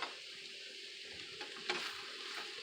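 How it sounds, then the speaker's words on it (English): A spoon stirs a garlic seasoning mixture, a quiet, steady scraping with a few soft clicks and taps, low and close with no talk. "I'm going to stir this around one more time."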